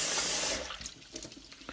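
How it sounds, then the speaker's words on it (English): Basmati rice is rinsed by hand, with water poured or drained off in a brief splashing rush, followed by softer trickles and small wet sloshes. "Get the water out with your hands like that, if you don't have a strainer, and just do it over and over until it's nicely clear water."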